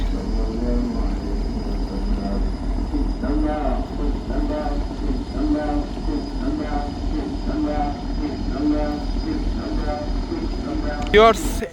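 Passenger launch MB Zahid 3 pulling slowly away from Charmonai on the river, its engine a steady low drone and hum running throughout, with voices speaking over it.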